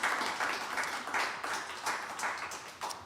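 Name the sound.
audience applause at live radio show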